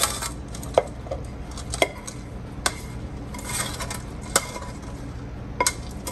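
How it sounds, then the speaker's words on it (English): Roast vegetables and quinoa tumble into a dish, with scattered clinks of a spoon against the pot and soft rustling scrapes, close and fairly quiet, no talk. "Gonna go ahead and add the quinoa."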